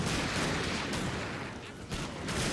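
Imperial Guard infantry firing breech-loading rifles in a Total War battle, a dense, loud fusillade of rapid overlapping shots with brief swells and dips.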